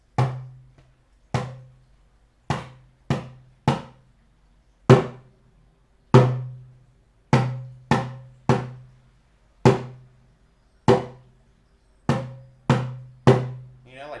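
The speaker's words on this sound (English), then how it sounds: "My African djembe?" An African djembe drum struck in slow, unevenly spaced single hits, each a deep resonant thump with a sharp attack that quickly decays, played close with silence between strokes.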